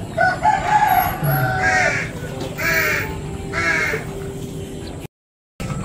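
A crow caws several times in harsh, repeated calls, fairly near, with a brief dropout near the end.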